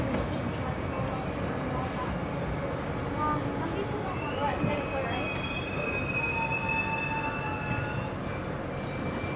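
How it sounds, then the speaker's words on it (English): A crowded Miami Metro train running on rails, a steady loud rumble with high wheel squeal building in the later part, while people talk inside the carriage. "Look at this full train."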